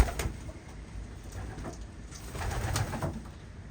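Racing pigeons coo softly inside a loft, a few low, throaty calls close by over quiet rustling and shuffling, with no talking.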